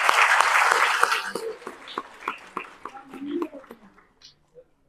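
Audience applause at a taekwondo awards ceremony, a loud burst of clapping that fades over a few seconds into scattered individual claps, with a voice faintly talking underneath.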